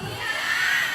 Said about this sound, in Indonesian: Orang Bekasi teriak-teriak